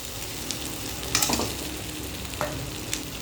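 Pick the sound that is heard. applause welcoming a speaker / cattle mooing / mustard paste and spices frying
mustard paste and spices frying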